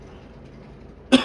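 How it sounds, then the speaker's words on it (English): A single short cough bursts out near the end after a stretch of quiet room tone, close and fairly loud. "Might edit the coughing out"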